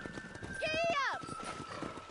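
Horse hooves clip-clopping in the Red Dead Redemption video game, a short galloping rhythm heard alongside a whinny-like call, with people talking over it.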